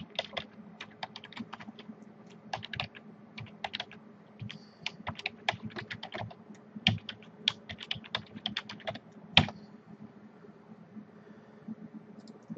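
A server name being typed on a computer keyboard, a quick uneven run of close, crisp key clicks over a faint hum, with one louder keystroke near the end.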